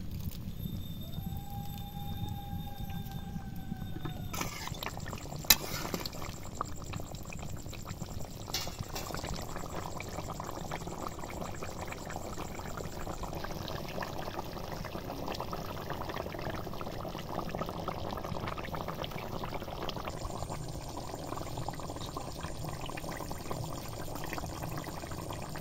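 Chicken curry gravy simmering gently in a pot, a soft continuous bubbling and liquid burble, fairly quiet and steady, with a few faint tonal hums in the background.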